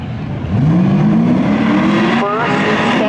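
A 1989 Chevy Camaro and a 1990 Chevy Corvette drag racing at Seekonk Speedway, engines roaring close and loud with rising gear-change sweeps, while an announcer talks over them.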